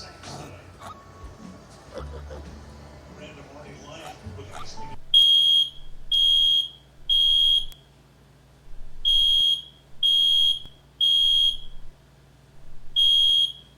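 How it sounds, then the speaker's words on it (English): A pulled fire alarm starts after some muffled noise and gives seven loud, evenly spaced electronic beeps, each lasting about half a second, with a low hum underneath. "Yes, I pulled the fire alarm."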